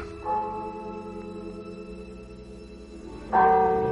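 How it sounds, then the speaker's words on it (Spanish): Bells ring out with long, humming tones that fade, then a fresh strike rings louder near the end; no voices. "Son unas campanas que anuncian que algo sobrenatural va a ocurrir."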